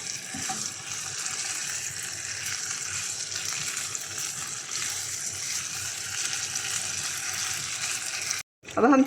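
Fried chicken being stirred into chili sauce in a pan, a steady close sizzle and frying hiss with watery bubbling throughout, broken by a brief gap and a short burst of louder clatter at the end.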